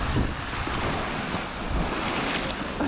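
North Sea waves surge and crash against rocky Scottish coastline in a steady, loud roar of surf, with wind buffeting the microphone throughout and no voices.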